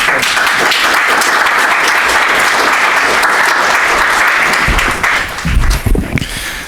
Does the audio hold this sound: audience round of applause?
yes